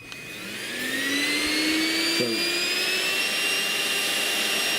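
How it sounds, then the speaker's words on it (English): A Bissell Bolt stick vacuum cleaner runs at full power, its steady high-pitched motor whine rising as it spins up and then holding loud and continuous, with a short spoken word at the start. "that's what the Bissell sounds like"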